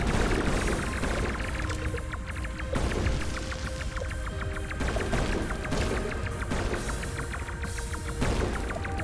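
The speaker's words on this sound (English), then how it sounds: "Ah, my friendly homing bullets." Homing bullets fire nonstop in the shoot-em-up game Chronicle: Unit Eight, a dense, loud barrage of blasts and booms with tonal electronic effects over game audio, no one talking.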